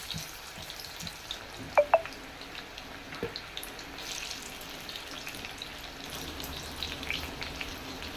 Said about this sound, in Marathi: आता हातानेच थोडं थोडं मिश्रण या तेलामध्ये सोडूया